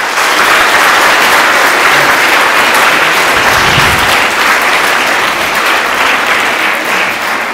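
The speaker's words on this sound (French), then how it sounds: "On peut les applaudir." Loud, dense applause from a large audience at a school dictation event, a continuous close wash of clapping that holds evenly throughout.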